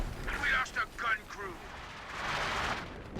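Artillery barrage in Company of Heroes 2 rumbles with dull blasts and crackling impacts, a few bursts in quick succession followed by a swelling roar, partly under a commentator's talk.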